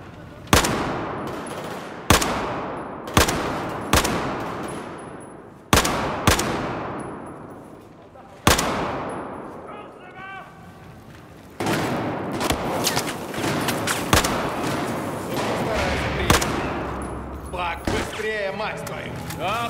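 Bursts of automatic gunfire and single loud shots in a Battlefield 4 forest firefight, sharp repeated cracks echoing near and far, with voices shouting in between.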